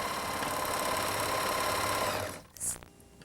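A Viking Huskylock 1002LCD serger stitches a seam on fabric, running as a steady loud mechanical whir that stops abruptly near the end, followed by a brief faint clack and quiet handling.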